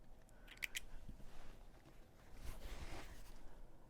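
Scissors make a couple of quick, faint snips while trimming fabric for a quilt block, followed by soft handling noise in a quiet room.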